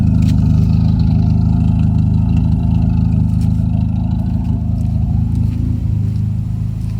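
A Nissan Sentra SE-R Spec V engine on solid mounts, freshly swapped for a more powerful motor, idles with a steady, loud low rumble that holds evenly throughout, with faint mechanical ticks above it.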